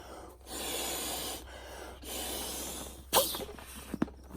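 Someone blows breaths into a memory foam camping pillow to inflate it: two long, breathy blows separated by brief pauses, close and steady, then a few short puffs and a soft tap.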